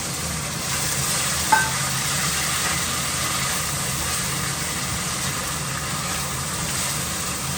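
Chopped onions sizzle and fry in a hot pan in a home kitchen, a steady, dense crackle running throughout with a single faint clink near the start and no talking.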